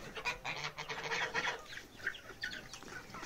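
Geese honk in a busy farmyard flock alongside chickens, bursts of calls close by and overlapping, thinning out toward the end.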